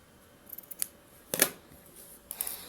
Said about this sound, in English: Then you cut it off.